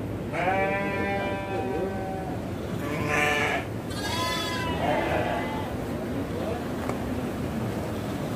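Goats bleating on a farm at the foot of Mount Ciremai, several wavering calls repeating over steady outdoor background noise, fairly close, with people talking faintly.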